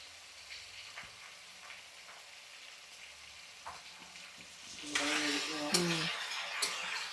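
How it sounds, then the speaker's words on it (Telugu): Chicken pieces fry in a pan with a soft, steady sizzle that swells louder partway through, while a utensil clinks and scrapes as the meat is stirred. "ఈ చికెన్ వేసేస్తున్నాం. ఇది కొంచెం వేగనిద్దామే."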